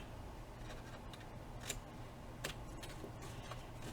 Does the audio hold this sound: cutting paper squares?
yes